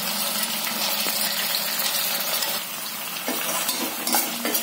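Green chilies and garlic fry in oil in a pan, a loud, continuous crackling sizzle with occasional utensil scrapes and stirring knocks and no talking.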